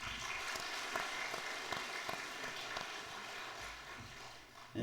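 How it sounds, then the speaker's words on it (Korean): A church congregation applauding during a Sunday service, a dense, steady patter of many hands clapping that fades softly toward the end, heard from some distance. "우리 박수 한번 합시다."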